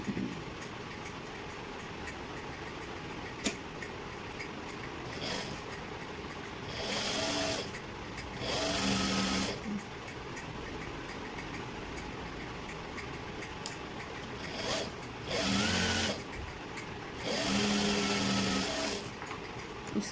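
A boutique sewing machine stitches pant pieces together in short bursts of rapid whirring, each lasting a second or two with quiet gaps between them, moderately close and with no voices.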